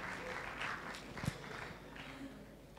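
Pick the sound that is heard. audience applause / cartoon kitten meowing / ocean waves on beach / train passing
audience applause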